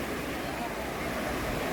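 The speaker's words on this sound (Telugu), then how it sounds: "సో ఇదంతా కూడా మనకి గోకర్ణ మెయిన్ బీచ్." Ocean waves wash in at Gokarna main beach as a steady, continuous roar, with wind buffeting the microphone throughout.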